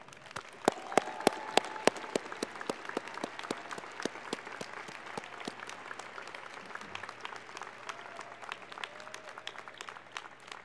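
Graduation ceremony audience applause at Heinz College's 2014 diploma and awards event, a room of scattered, crisp individual claps in a loose, sustained patter that continues evenly for about ten seconds.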